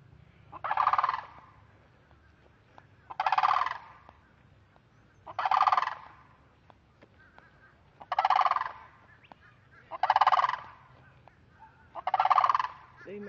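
Six honking, gobbling flamingo calls arrive in a regular rhythm about two seconds apart, fairly close, over a quiet low background hum, in Florida.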